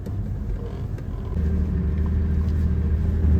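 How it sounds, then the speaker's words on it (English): A 4WD vehicle driving off-road on a Botswana safari track gives a steady low engine rumble that grows louder and heavier partway through, with a rough, continuous drone and no talk. "Off-road driving."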